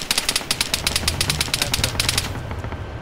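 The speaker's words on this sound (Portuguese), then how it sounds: "Nossa, tiro, tiro." Rapid automatic gunfire in the game Arma 3 rattles in a steady fast burst for a few seconds, loud and close, then cuts off.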